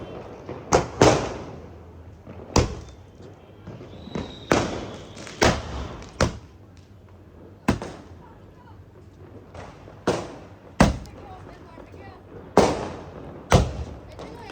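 Diwali firecrackers and fireworks go off across Hoshiarpur city, a steady stream of sharp bangs and cracks at irregular intervals, some near and loud, others distant, over a low background of crowd noise.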